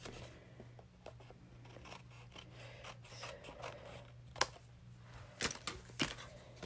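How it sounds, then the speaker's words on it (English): Scissors snip away excess paper during card making, producing faint, quiet cuts and rustles that grow into a few crisper snips toward the end, with no talking. "I can just cut here whatever excess I have and make sure that it covers"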